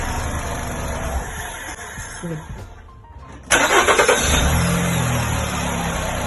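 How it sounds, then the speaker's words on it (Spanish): A starter motor cranks a car engine: a steady whirring rumble, a brief quiet lull, then a sudden loud burst as the engine catches and settles into a rough running drone, close by. "vamos a verificar cuál es la corriente máxima que consume el motor de arranque en este tipo de vehículo"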